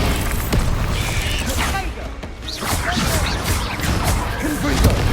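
A Bombarda spell explosion in Hogwarts Legacy lands amid dense, loud combat noise: heavy booms, crashes and whooshing bursts one after another, with a voice briefly audible.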